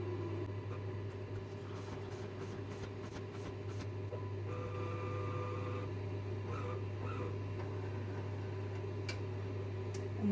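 A Bravilor Esprecious bean-to-cup coffee machine brewing and dispensing a drink, giving a steady low mechanical hum with a whirring pump and faint ticks and hisses, continuous and even throughout, with no talking.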